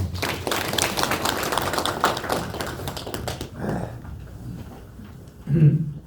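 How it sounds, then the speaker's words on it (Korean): Audience applause at an indoor farm-cooperative lecture on pepper farming, a dense burst of clapping that fades after about four seconds, followed by a brief voice. "큰 박수 부탁드리겠습니다"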